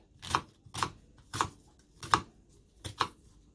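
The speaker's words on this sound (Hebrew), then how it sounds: "ואני חותכת את התפוחים לקוביות קטנות" A knife chops unpeeled apples into small cubes for apple strudel, giving five sharp, evenly spaced cuts against a board, close and clear with quiet pauses between.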